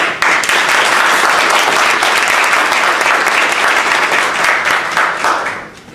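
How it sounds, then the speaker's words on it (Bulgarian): A dense wash of audience applause fills a hall at the 2014 ESFL regional conference in Sofia as a speaker is introduced, loud and sustained for several seconds before tapering off at the end. "И аплодисменти"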